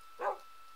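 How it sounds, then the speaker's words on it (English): A single short, soft bark comes from a dog in Minecraft. It is brief and moderately faint against a quiet background. "That was the dog."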